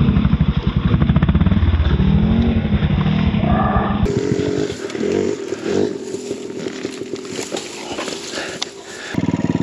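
A BBR KLX170RF dirt bike engine pulses and revs while riding off-road, a loud, close, rapid thumping exhaust that shifts pitch as the throttle changes, with wind and rattling mixed in.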